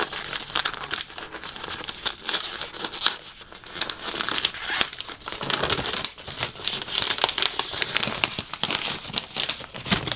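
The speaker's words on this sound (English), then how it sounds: "So let's unwrap." Crinkly wrapping paper around a book is torn and unwrapped, a dense, continuous run of close, loud crumpling and tearing with no talk.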